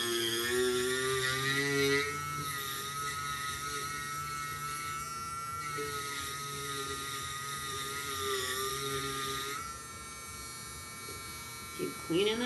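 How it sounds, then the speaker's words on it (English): Dremel rotary tool cutting into a pumpkin whines steadily at a high pitch, wavering as the bit digs in and eases off, with a person talking over it throughout. "you can compare how deep your Dremel tool is embedded in the pumpkin by watching how far the sides are up on your Dremel tool bit"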